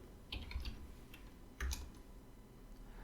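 Keys typed on a computer keyboard while entering a web address, two short bursts of close clicking with quiet gaps between, no talking.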